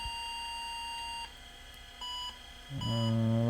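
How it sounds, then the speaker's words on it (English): An IBM PS/2 Model 70 computer powering up after a power supply repair sounds a few short electronic beeps, steady tones that stop and restart, followed by a louder lower buzzing tone at the end. "We're getting beeps"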